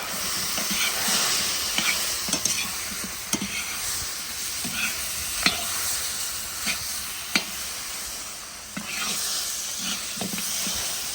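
A pumpkin with spicy seasoning stirred in a cauldron, scraping and clacking in irregular strokes over a steady sizzling hiss, close and moderately loud, no talk.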